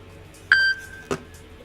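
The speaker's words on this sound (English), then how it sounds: "Apparently I forgot to silence my phone." A phone gives a short, clear notification beep, a single bright tone followed by a softer click, close by in an otherwise quiet room.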